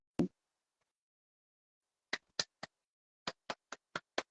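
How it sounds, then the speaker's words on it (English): Eight sharp single hand claps ring out in an otherwise quiet room at a Kenyan music listening session, one isolated clap first, then a group of three and a brisk run of five. "Clap for me. African clap for me."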